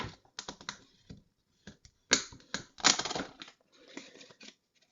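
Cardstock box card being folded upside down about three-quarters of the way and creased, giving close, crisp crunching and crinkling bursts in uneven clusters, with no talking.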